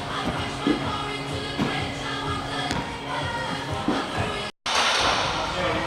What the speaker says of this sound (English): he's going to jump up sideways onto the box, back down and then forward